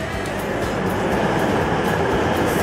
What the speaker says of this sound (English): So this is my train here